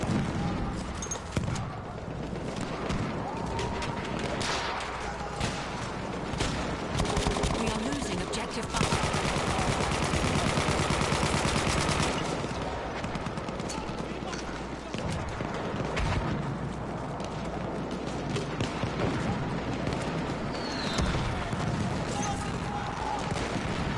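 A close, sustained barrage of gunfire during a shooting, with dense overlapping shots and booming blasts, under occasional speech.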